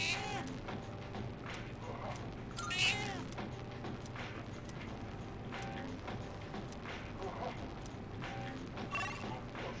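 A cat meows several times in the video game Persona 3 Reload, short separate cries over a steady quiet game-music bed.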